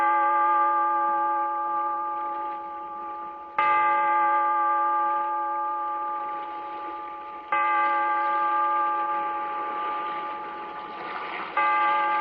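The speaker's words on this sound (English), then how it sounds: "Bellkeeper, toll the bell" A bell tolls three times in a radio drama set in a cave by the sea, each deep, ringing stroke sounding alone and fading slowly before the next.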